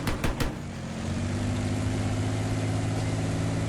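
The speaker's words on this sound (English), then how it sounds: "even over the tank's engine" Deep, steady rumble of a tank engine in a video game, with a low droning tone, following a few sharp knocks at the start.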